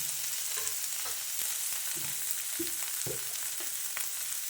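Onion, tomato and masala frying in a pan for potato rice, with a steady sizzle broken by intermittent stirring scrapes and clinks, close and alone without talk.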